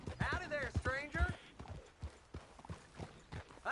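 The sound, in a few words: horse hooves in Red Dead Redemption 2 video game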